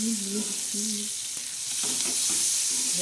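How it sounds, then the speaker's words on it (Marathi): Green chilies frying in hot oil, a dense, bright sizzle that hisses continuously and close up, with faint low tonal sounds underneath and no speech. "हिरव्या आपण साध्या आणि सोप्या तळत आहोत तेलामध्ये"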